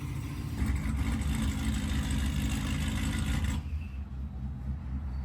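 A built, supercharged 2024 Mustang GT engine runs close by with a deep, rumbling idle and slight revving, then drops abruptly to a quieter, lower tone near the end.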